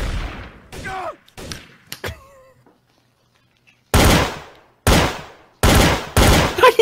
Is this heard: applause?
no